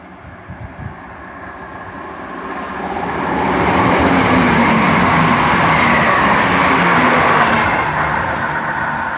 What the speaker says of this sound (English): passing through 168, 106 and 168328. They are heading to Birmingham Snow Hill, originating London Marylebone